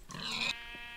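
A Minecraft pig grunts once, a short nasal squeal-like call standing out clearly over a steady game background hum, with no talk.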